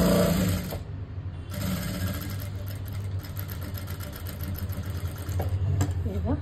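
A sewing machine runs steadily while stitching the lining of a blouse sleeve with a ready-made border, its mechanical whir continuing through most of the stretch, with a voice talking briefly over it at moments.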